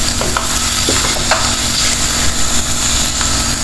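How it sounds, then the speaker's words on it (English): Onions sautéing with turmeric powder in a pan for biryani, a loud steady sizzle with occasional stirring scrapes, close up and without talk. "So keep sauteing it. It will take about 10 to 15 minutes."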